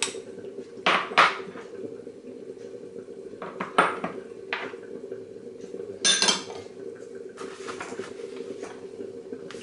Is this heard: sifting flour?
yes